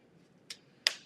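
Two sharp, isolated hand claps, a softer one followed by a louder one, each with a quick decay, used to switch a Clapper sound-activated device on and off in a quiet room.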